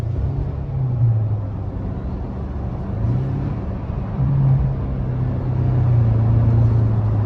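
Engine of a 4th-gen Toyota Tacoma fitted with a Banks air intake, a steady low droning rumble with gentle rises in pitch, heard from inside while driving and fairly loud, with no talking.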